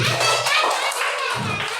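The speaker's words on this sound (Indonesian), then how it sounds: "Tepuk tangan sekali." Schoolchildren in a classroom clap together in a short, quick burst of many small hands, close and fairly loud, with young voices mixed in.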